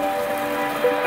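Hail falling outdoors, a brief patter of pellets striking a surface in a dense, steady rattle.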